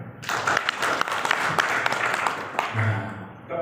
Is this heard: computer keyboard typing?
no